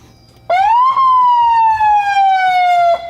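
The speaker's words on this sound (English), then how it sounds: "It's got a siren." A loud vehicle siren wails in a single long rising-then-falling tone, close and steady, with brief clicks at start and end, from a Hyper collector car.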